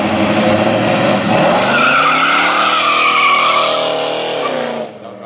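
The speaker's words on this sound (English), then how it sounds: "That was not the best burnout." An old car doing a tire burnout at a Cars and Coffee meet, loud close engine roar with sustained tire squeal and screech for several seconds, then cutting off abruptly.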